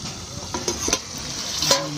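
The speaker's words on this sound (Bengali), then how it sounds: "কেটে রাখা ছাটটা দিয়ে দেবো, ঢাকা দিয়ে একটু কষিয়ে নেবো" Chopped meat trimmings sizzling and frying in a covered pan with salt, a steady close hiss broken by a few sharp clinks of a spoon stirring against the metal.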